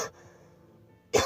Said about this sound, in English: Just gotta let the janitor cough here.